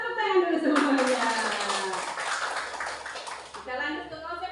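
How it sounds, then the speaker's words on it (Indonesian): An audience at an Indonesian teachers' good-practice sharing session claps together for a few seconds, a dense burst that swells and fades, with a speaking voice over it at the start. "Tepuk tangan dulu semuanya."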